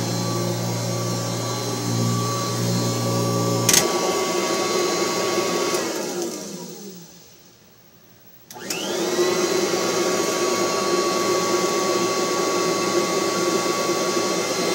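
A Kirby Heritage 2 upright vacuum cleaner running at home, a loud steady close whine that winds down to near silence, then snaps back on and holds its steady drone.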